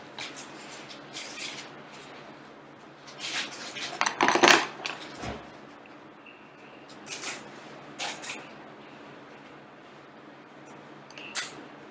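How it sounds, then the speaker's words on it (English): A pan holding seeds is set onto a stove, giving a cluster of sharp metallic clanks and rattles in the middle. Lighter clinks and taps come before and after it in a quiet room. "to put the seeds on the pan and to put it on the fire, on the stove"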